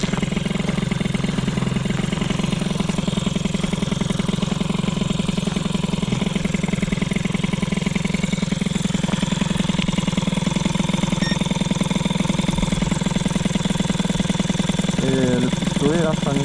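A scooter engine fitted with a Stradivario Boost V2 kit idles steadily and close by, a continuous low throbbing hum that holds even throughout.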